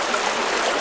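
Shallow creek water flows in a steady, broad rushing hiss, continuous and close with no other sounds.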